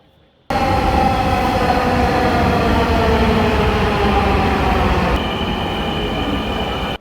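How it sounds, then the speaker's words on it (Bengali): A Dhaka metro train on the Motijheel to Uttara run roars past close by, a loud, continuous rushing rumble that begins suddenly and holds steady, easing slightly in tone near the end. "এই ট্রেনটি যাবে আমার উল্টো পথে মানে এটি যাচ্ছে মতিঝিল থেকে উত্তরায়"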